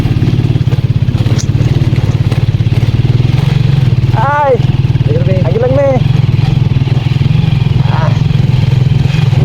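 A Euro motorcycle engine idles loud and close with a steady low throbbing hum, running without a break while people chat and call out over it on a rural farm.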